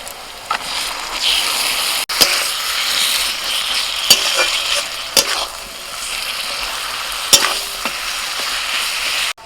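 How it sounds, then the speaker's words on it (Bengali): Marinated mutton frying with half-browned onions for mutton pulao, a loud steady sizzle with sharp clicks of stirring against the pot, no talking. "পেঁয়াজটা যখন এরকম অর্ধেকটা ভাজা হবে তখন এর মধ্যে আমি মটনটা দিয়ে দেবো ম্যারিনেট করা মটনটা দিয়ে দিচ্ছি"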